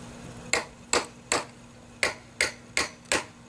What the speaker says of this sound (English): I need the hammer sometimes for these because I'll hit something in the board